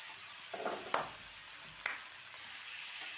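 Pork fries in a pan for pork sinigang, a soft continuous sizzle with a few brief clinks and scrapes from stirring, close but fairly quiet.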